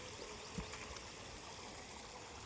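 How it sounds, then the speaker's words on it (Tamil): Fast-running water in a stream near the Nagaramangalam dam, a steady broadband rush with no pauses, heard up close and fairly quiet, with no voices. "ஏன் இவ்வளோ சீக்கிரம் தண்ணி ஓடுதுன்னா"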